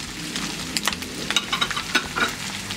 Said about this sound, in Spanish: Ahora vamos a mover bien estos ingredientes